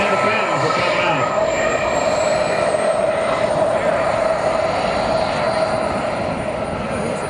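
A Korean War era F-100 jet fighter takes off at an outdoor air show, its engine a loud, steady broadband roar that holds throughout, with a faint announcer voice beneath it.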